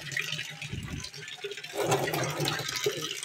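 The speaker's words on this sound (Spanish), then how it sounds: "ahorita se está llenando el bote de agua, ahí está llenándose" Water pours steadily into a container, a soft continuous rushing and gurgling at moderate distance, the flow swelling slightly partway through.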